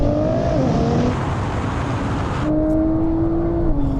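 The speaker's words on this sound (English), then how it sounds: "as you pull away, it bogs down" Nissan GT-R pulling away and bogging down: close engine with rising revs that stall and flatten midway, then a lower strained drone resumes, loud and without talk.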